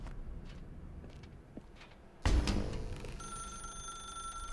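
A telephone rings in the video game The Stanley Parable, a sudden loud electric bell that bursts in after a quiet, dark room ambience and settles into a steady ringing tone, with no voices.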